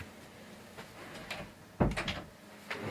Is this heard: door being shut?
yes